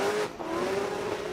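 Formula Drift drift car at Irwindale, 2023 Pro Round 8 Top 32, screaming at high revs in a long sustained engine note through the run, loud and close with tire noise, briefly dipping before climbing again.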